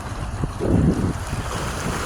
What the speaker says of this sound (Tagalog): malakas na yung hampas pag high tide tulad yan high tide pa yan eh, malakas pa